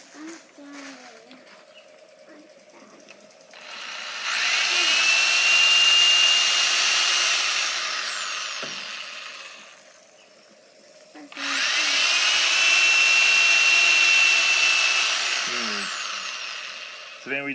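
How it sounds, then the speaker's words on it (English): A power drill bores holes to hang a flag, two long bursts of whining drilling, close and loud, with the motor rising and holding before winding down, separated by a quiet gap, while people talk in between. "we just had to drill these holes out,"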